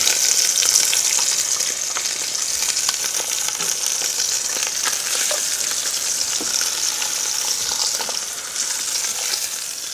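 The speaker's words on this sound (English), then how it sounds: "sear those short ribs until they're nicely browned all over" Short ribs sear in hot vegetable oil with a steady, loud, close sizzle and spatter that holds evenly throughout, with occasional scraping clicks and no voices.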